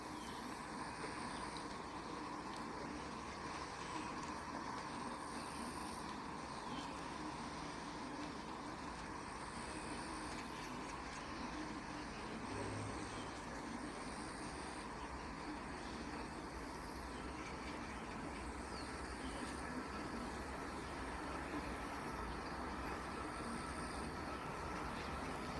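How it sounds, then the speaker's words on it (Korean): A Mugunghwa passenger train on the Janghang Line, hauled by a diesel locomotive, rolls into Sinryewon Station, making a steady, continuous rumble and rush of noise that stays even for the whole stretch. "The train is now approaching."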